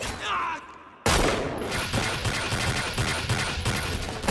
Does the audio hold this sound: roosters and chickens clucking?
no